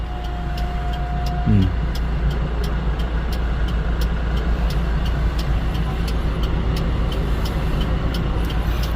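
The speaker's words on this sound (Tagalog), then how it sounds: "Traffic sa Mines View Park" Steady road traffic rumbles at crowded Mines View Park, a dense, continuous wash of vehicle noise with a brief horn-like tone near the start and faint regular ticking throughout.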